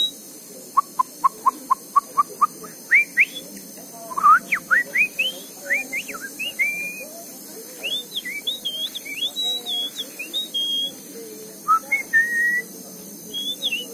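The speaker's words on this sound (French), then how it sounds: "Un sabia qui vient manger les graines là, vous voyez?" Sabiá thrushes in the Rio de Janeiro botanical garden, calling with a quick run of clear whistled notes, then varied warbling phrases and chirps that carry on steadily, fairly near, over a soft garden background hum.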